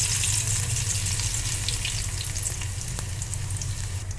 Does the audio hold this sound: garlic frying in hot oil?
yes